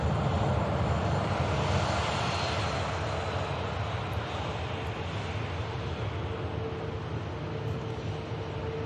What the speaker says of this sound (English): Next aircraft in looks like the Brussels.